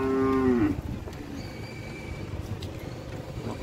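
Nelore cattle moo loudly during unloading from trucks at a cattle fair in São Benedito, Ceará: one drawn-out bellow fades quickly into steady outdoor background noise.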